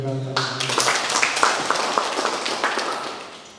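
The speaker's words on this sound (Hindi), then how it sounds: "एक बार सभी पर जोरदार तालियां" An audience at a Diwali Milan gathering in Hazaribag breaks into applause. It starts after a brief voice and continues as a steady patter of claps that slowly fades toward the end.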